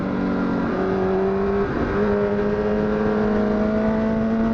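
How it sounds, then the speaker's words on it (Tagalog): A tricycle approaches and passes on a road, heard from a CBR1000 sport bike on an uphill ride, its engine tone rising then steady under continuous loud engine and wind noise. "Tricycle, coming."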